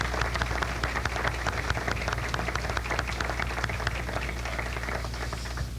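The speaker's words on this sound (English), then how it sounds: "let's have a big round of applause to 2 of the most talented radio people, Flo Ayres, Walt Tease" Audience applauding at the 1972 Baltimore Golden Radio Buffs Awards, a steady, dense wash of many hands clapping throughout, filling the room with a sustained roar and no voices on top.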